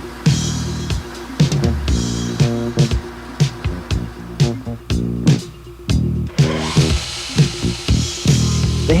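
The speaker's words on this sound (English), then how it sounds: "with a drill press and special drill fixtures, both the handle and tang holes are drilled into the blade" A drill press with special fixtures boring the tang and handle holes into a balisong knife blade, with repeated loud, close bursts of whining drilling and sharp metallic clicks between pauses.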